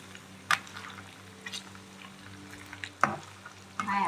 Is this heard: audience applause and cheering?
no